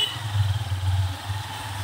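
A motorcycle engine runs steadily on a morning ride near Kondagaon Dam in rural Maharashtra, a close, continuous low rumble with wind noise over it and no talk.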